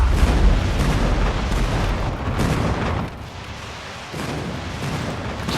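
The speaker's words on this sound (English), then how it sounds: "Friendly airstrike incoming." Airstrike explosions in Call of Duty Mobile roll out as a loud, continuous wall of booming blasts that eases briefly, then rumbles on.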